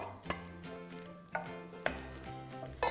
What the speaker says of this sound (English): Now I'm going to drop in the paneer pieces